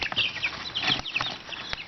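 Chickens cluck and chirp close by in short, overlapping calls, with a little rustling underneath.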